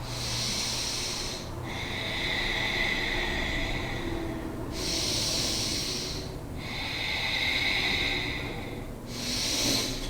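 Slow, deep yogic breaths during a flow, long airy inhales and exhales alternating in a steady cycle of about three full breaths, close and fairly loud, with no talking.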